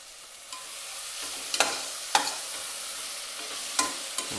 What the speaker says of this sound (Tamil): நல்லா வதக்கி விட்டுருவோம்.